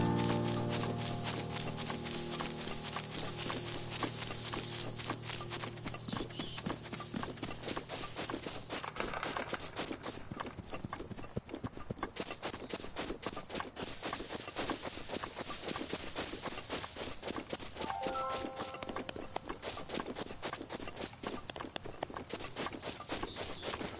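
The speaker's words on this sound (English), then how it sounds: "a loud echo resounding as the sole of his boot connects with the stone" In The Legend of Zelda: Tears of the Kingdom, clip-clopping horse hooves and boot footsteps on stone repeat in a steady rhythm, echoing at mid-distance, with a brief tonal chime partway through.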